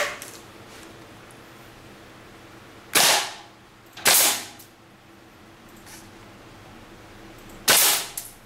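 Three sharp, loud gas blowback shots from an airsoft gun fired with green gas, single reports spaced a second or more apart with quiet pauses between them.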